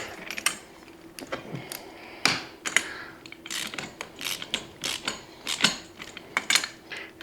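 Knobs being tightened on a Chauvet CH06 heavy-duty lightweight T-bar lighting stand, making a busy run of close ratcheting clicks, creaks and metallic turns in quick irregular bursts, with no talk.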